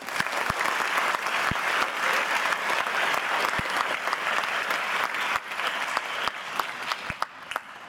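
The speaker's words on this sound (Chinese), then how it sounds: "现在让我们用最热烈的掌声欢迎台东大学音乐系管乐团" A concert audience gives warm, sustained applause to welcome a university music department wind band, a dense, steady wash of many hands with a few sharp nearby claps, fading slightly at the end.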